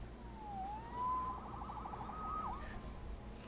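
A police siren wails at a distance in Marvel's Spider-Man 2018 video game, rising and falling faintly beneath a low ambient city hum, no voices.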